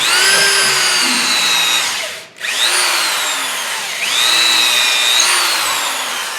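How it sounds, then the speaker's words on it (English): A drill bit bores a hole into a wooden bowl blank mounted on a lathe, a loud whining tone that dips briefly mid-way, then resumes and climbs again as the cut continues. "we're gonna drill the appropriate size hole in the right direction"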